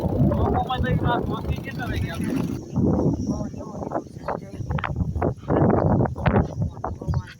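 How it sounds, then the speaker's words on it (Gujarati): Wind blows in strong gusts, roaring against the microphone while a person talks over it, with a low vehicle rumble beneath. "ગરમ ગરમ પવન"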